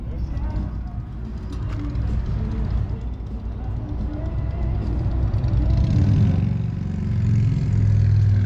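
A deep Harley-Davidson Pan America motorcycle engine rumbles and revs, swelling louder toward the end, while people talk over it nearby.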